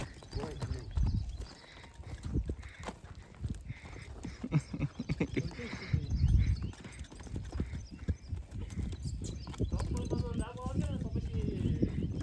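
A horse clops its hooves steadily and close by while people talk over it throughout, with a brief whinny-like call near the middle.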